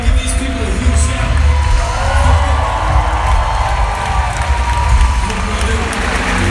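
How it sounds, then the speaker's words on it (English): A church congregation on its feet cheers and shouts loudly, a dense roar of voices with whoops and clapping rolling continuously. "Everybody up, can we give these people a huge shout?"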